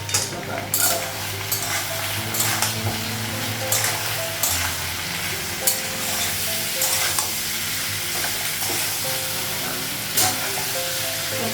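Food fries in a pan on a gas stove with a steady sizzle, punctuated by scraping and clinking as it is stirred, in a home kitchen.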